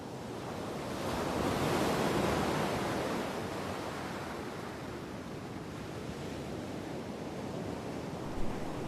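Ocean waves wash steadily in a video game ending scene, a broad continuous surf rush that swells slightly and then settles into a constant roar, with no voices.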